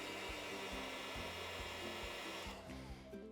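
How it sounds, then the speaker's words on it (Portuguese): A hair dryer runs steadily at close range, drying freshly applied paint in a home garden craft setting, its continuous whirring roar holding level throughout with a slight shift near the end. "aí você pega seu secador, dá uma secadinha rápida"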